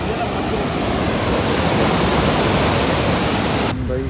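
Heavy, forceful river water rushing near KRS in Mysuru, a loud continuous roar close by that fills the whole clip before cutting off abruptly near the end.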